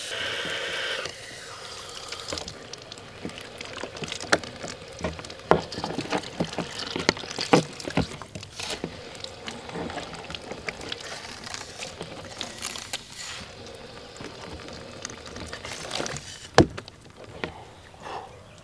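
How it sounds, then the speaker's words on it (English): Water runs from a burst pipe in a steady, close hiss and splash, with scattered sharp clicks and knocks from tools being handled around it. "Let's see if we can cap it off while the water is running."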